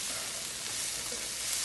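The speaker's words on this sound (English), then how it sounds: "as you see, it's not springing any water, it's frying" Cabbage seasoned with sazón and salt fries in a pot over the fire with a steady, close, even sizzle and no voice.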